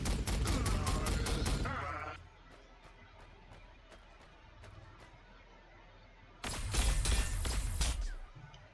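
Incoming gunfire in Warhammer 40,000: Sanctus Reach comes as a rapid burst of loud cracking shots, then a few sparse distant pops, and then another loud volley, with no voices.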